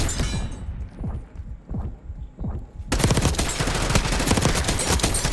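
Rapid gunfire bursts in a shooter video game, first scattered low thuds, then a dense continuous barrage that stays loud and close to the end.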